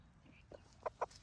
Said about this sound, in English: You're such a sweet chicken.